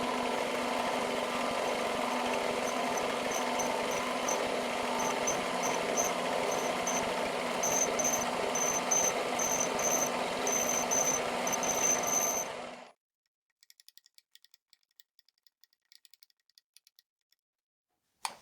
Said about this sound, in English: I'm using a 4-flute HSS 8mm end mill. I will run it at about 1000 RPM